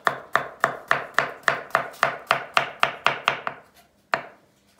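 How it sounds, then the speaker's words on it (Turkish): A knife chops garlic cloves into onion on a board, about a dozen crisp, evenly spaced strokes close by, then a pause and one final chop, with no talking. "Tabandan lezzet versin diye soğanın içine iki tane de sarımsak doğruyor."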